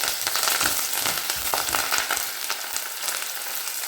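Shallots and curry leaves sizzle and crackle in hot oil in a pan, a busy bright frying hiss with scattered pops and a few stirring scrapes, louder at first and easing slightly.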